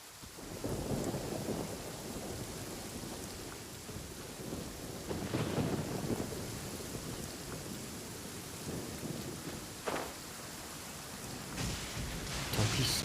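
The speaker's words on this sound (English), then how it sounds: "I always get so gloomy when it rains." Steady rain pours in an anime-style open-world game while rolling thunder rumbles at intervals, with a sharper crack near the end.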